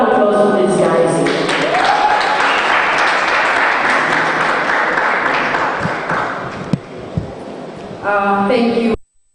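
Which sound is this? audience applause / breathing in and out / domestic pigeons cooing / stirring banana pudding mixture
audience applause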